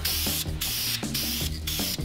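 Close aerosol bursts of clear coat onto Brembo brake calipers on an Acura TL: four quick hissing sprays in an even rhythm, each cut off by a brief pause.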